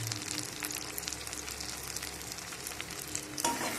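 Ground coriander, cumin, turmeric and chilli powder fry in hot oil, a steady close sizzle with scraping stirs running throughout, ending in a brief louder burst near the end.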